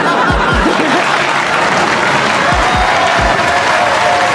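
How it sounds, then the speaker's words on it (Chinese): An audience claps warmly after a speech at a stage event: dense, continuous applause near and loud, with a few low thumps and a murmur of crowd voices mixed in. "观众们给予了芭芭拉热烈的掌声"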